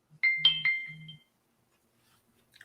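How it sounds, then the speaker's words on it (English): Short electronic phone ringtone melody, a quick run of bright tonal notes over a low buzzing pulse, sounding alone for about a second and then silence. "Oh no, that's a ringtone."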